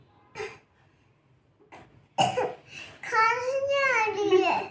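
A child coughs in a few short dry bursts early on, then a young voice babbles and talks in a high, wavering tone, with adult speech nearby.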